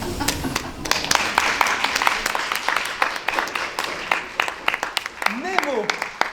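An audience claps for a magician's partner at a stage conference-show, a steady patter of hand claps heard under someone talking.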